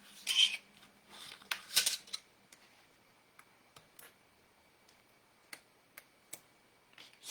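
Paper pieces being fussy-cut by hand with scissors: a few soft snips and rustles early on, then sparse, faint, isolated clicks of the blades at irregular intervals in a quiet room.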